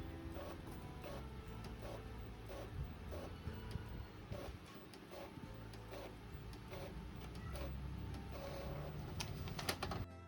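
An Epson L3210 ink tank printer runs a photocopy cycle, giving a steady mechanical whir with repeated rhythmic clicks and shuttle knocks at close range, with no talking.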